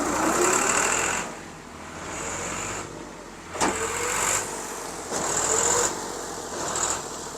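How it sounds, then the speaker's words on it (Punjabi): A Fiat 480 tractor reverses a trolley, its engine running steadily nearby and rising and falling in waves, with brief mechanical clanks and whines mixed in. "ਇਹ 480 ਟਰੈਕਟਰ ਆ ਫੀਐਟ"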